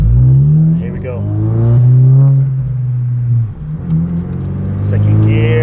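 A car in sport mode on new tires accelerates hard from a stop, its engine rising loud and close through the gears with a brief dip at a shift, while someone talks over it.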